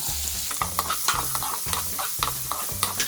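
Chopped green chillies and onion fry with cumin for dal makhani, sizzling steadily while a spoon scrapes the pan in a regular stirring rhythm, close and clear.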